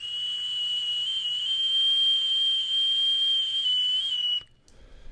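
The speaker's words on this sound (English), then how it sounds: "can I get the train whistle back?" A synthetic train whistle sound effect: one sustained, steady high whistle tone, loud and close, holding for about four seconds before cutting off abruptly into near silence.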